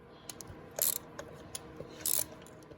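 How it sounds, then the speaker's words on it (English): Ratchet turning out a spark plug on a Grand Caravan with the 3.6 Pentastar engine, giving soft close clicks and two short bursts of rasping ratchet noise, with no talking. "It would help to add a little bigger ratchet."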